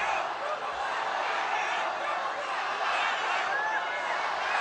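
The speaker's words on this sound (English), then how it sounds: "the crowd, as you can hear, getting right behind Wang" An arena crowd at a Sanda World Cup finals bout roars and cheers in a steady, dense wall of noise that holds level throughout, with a commentator's voice faintly present beneath it.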